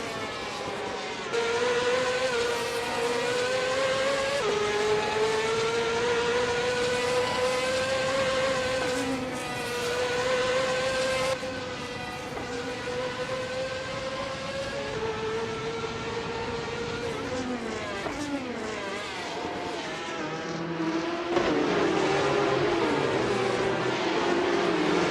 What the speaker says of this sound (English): Their car is a 1994 Ferrari F355 Challenge, same as most others in the race.